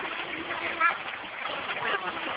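River water splashes and gurgles close by in a continuous rushing wash, with a slightly louder splash near the start, while people talk over it.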